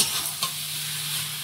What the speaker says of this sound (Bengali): মশলাটা কষানো হয়ে গেছে, এবারে ভাজা ফুলকপি আলু